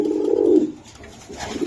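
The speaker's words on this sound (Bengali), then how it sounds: "ভাই এটা একটা পুরান জাতের সবুজ গলা কবুতর, নরমাদি।" An old-breed green-necked pigeon pair, male and female, kept in a cage, coos close and loud: one long throaty coo, a short lull, then another coo begins.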